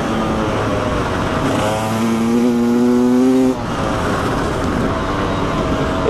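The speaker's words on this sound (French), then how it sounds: "J'aurais jamais eu une moto qui craque autant" An enduro motorcycle engine runs steadily and loudly up close, its revving tone rising briefly in the middle before settling back to a rough idle.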